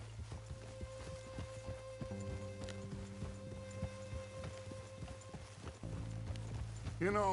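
Horse hooves clip-clop at a steady pace in Red Dead Redemption 2, the rhythmic hoofbeats sitting under a man's speech and a bed of game music with sustained tones throughout.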